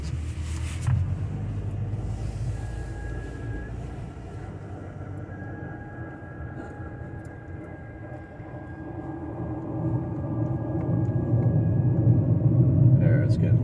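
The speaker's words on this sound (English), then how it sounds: "There, it's getting louder. Sounds like a jet plane or something. Really horrible sound." Loud droning rumble from the rear brakes of a 2007 Kia Optima while driving, a low steady roar that swells louder toward the end.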